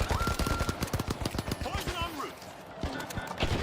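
Rapid gunfire in a video game, with bursts of shots rattling close and loud under an excited voice talking over them.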